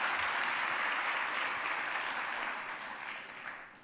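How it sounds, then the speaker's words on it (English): An audience claps steadily, a dense wash of applause that holds strong, then gradually thins and fades toward the end. "Round of applause."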